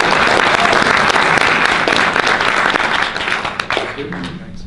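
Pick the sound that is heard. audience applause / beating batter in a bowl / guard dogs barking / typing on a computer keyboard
audience applause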